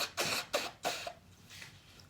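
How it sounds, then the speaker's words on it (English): Three quick, forceful nasal blasts in a row, close and breathy, like someone blowing their nose into a tissue, followed by softer rustling. "please excuse me, I have to blow my nose"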